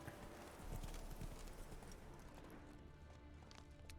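Roach, the horse in The Witcher 3, clip-clops along in a steady, quick rhythm of hoofbeats on the ground, moderately loud with faint ambient game sound beneath.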